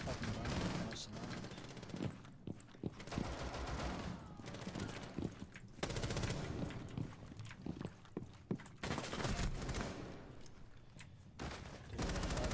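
Gunfire in Rainbow Six Siege, bursts of rapid shots and thudding impacts in dense clusters throughout, with a player's voice talking over the action.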